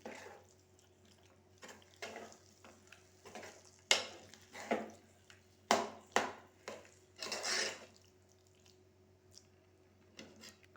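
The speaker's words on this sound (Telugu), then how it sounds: "ఇప్పుడు ఆలు వేసాం కదా టోటల్గా ఇలా కలిపేసుకోవాలా" A potato and tomato curry is stirred in a pan, with a series of irregular scraping and clattering strokes, some sharp and loud, spaced apart over quiet background.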